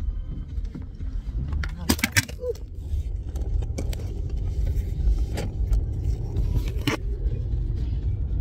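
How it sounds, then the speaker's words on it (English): Inside a car on a morning drive, a steady low road rumble fills the scene while a truck closes in from behind, with a few sharp clicks and rattles rising over the constant engine and tyre noise. "that truck is coming up fast behind me"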